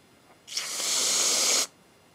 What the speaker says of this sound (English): First, I'm gonna spray this on her hand.